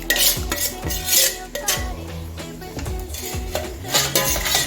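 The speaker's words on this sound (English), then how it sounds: "I have to add the grind pepper and the crayfish and the okpei." Ground pepper, crayfish and okpei go into a pot of banga stew made with fresh palm fruits, with repeated loud metallic clanks and scrapes of a spoon against the pot as it is stirred, close up and with no talk.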